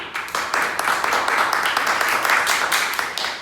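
A studio audience claps to vote, with a steady patter of many hands applauding throughout at moderate loudness.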